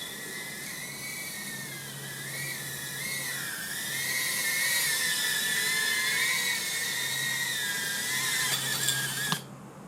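A Diatone Hey Tina Whoop163 FPV drone flying in a light breeze, a loud continuous high-pitched whine from small motors that rises and dips as it maneuvers, sustained for several seconds before cutting off abruptly.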